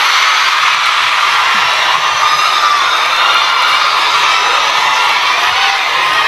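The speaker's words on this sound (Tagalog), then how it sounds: "Dahil kayo ay sumisigaw ng Duterte, suspended na kayo lahat bukas." A large crowd at a rally shouts and cheers loudly and continuously, dense high voices roaring close throughout.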